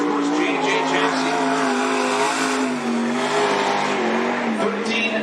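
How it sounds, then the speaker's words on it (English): Number 12 limited sprint car lapping Cottage Grove Speedway, a loud sustained engine roar with wavering pitch as it accelerates around the track, steady and close throughout. "Here's the number 12 car"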